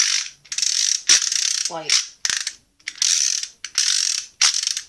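A loose toy lightsaber mechanism spins and ratchets in short repeated bursts, close and fairly loud with brief gaps between spins, and a voice briefly speaks partway through.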